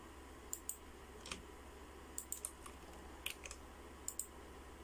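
Quiet keyboard typing while logging into the admin page of a PLDT Home Fibr Fiberhome AN5506-04-FA router: scattered clusters of sharp, close key clicks with short pauses, over a faint steady room hum.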